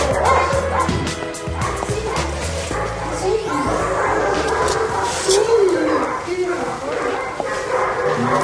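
A dog barks, yips and whimpers excitedly at close range in a reunion with its owners after being collected from an animal shelter, while people talk over and between the repeated sounds.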